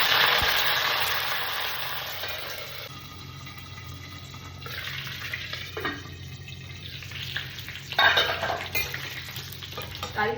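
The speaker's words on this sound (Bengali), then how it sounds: "এরপরে দেখো কারি পাতা দিচ্ছি।" Curry leaves dropped into a pan of hot oil for butter paneer burst into a loud spitting crackle that settles into a gentler sizzle, with later spatula stirs and clatter close by.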